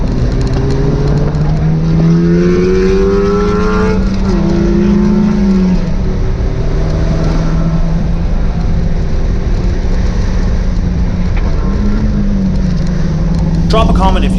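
A Miata race car fitted with a Honda K24 engine runs on a race track, its engine rising and falling in pitch through repeated shifts, loud and continuous close by, with a voice talking over it.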